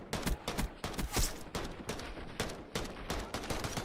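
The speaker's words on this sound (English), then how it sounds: "Oh, extra bullets in the body as well from Flux." Rapid overlapping gunfire from a Call of Duty match in a DAF Esports CoD World Championship game between Offutt AFB and Cannon AFB, with dense bursts of shots crackling loud and continuous throughout.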